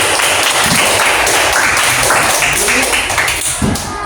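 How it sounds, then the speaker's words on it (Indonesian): A classroom of primary school pupils claps hands in a dense, steady burst that fills the whole stretch, with a voice talking faintly underneath. "Mantap, tepuk tangan"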